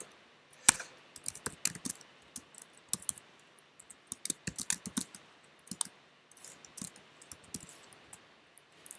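Fingers type on a computer keyboard in quick, uneven bursts of light clicks and taps, close up and fairly quiet, with brief pauses between flurries and no speech.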